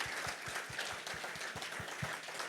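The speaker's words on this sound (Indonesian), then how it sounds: "berikan tepuk tangan sekuat-kuatnya buat Tuhan kita yang baik" A church congregation applauds in a steady wash of clapping, with fairly even rhythmic low thumps running underneath, heard at a moderate distance throughout.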